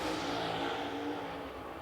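A super late model stock car races through turn four on the Lancaster Motor Speedway oval during qualifying, its engine a loud, steady roar holding high revs as it passes.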